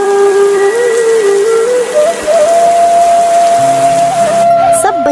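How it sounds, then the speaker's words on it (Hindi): Heavy rain in a Hindi children's cartoon pours as a steady, loud hiss throughout, with a sustained whistle-like tone over it and a few soft musical notes near the end. "कुछ देर बाद तेज बारिश"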